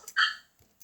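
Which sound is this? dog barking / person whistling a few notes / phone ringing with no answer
dog barking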